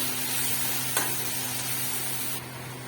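Tomatoes frying in a hot pan, a loud continuous close-up sizzle and hiss with a single sharp tap near the start and a slight drop in level toward the end.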